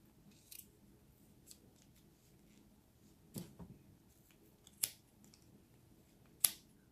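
Scissors snip through thick crocheted yarn while finishing an American Girl doll hat and scarf, a few sharp separate cuts over a quiet room with no talking.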